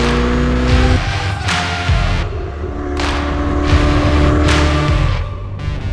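A Ferrari F8 Tributo with its 3.9 litre twin-turbo V8 on a drive, rising and falling through several gear changes, with revs climbing and dropping in a loud, close engine note.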